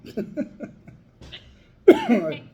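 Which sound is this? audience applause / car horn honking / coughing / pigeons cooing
coughing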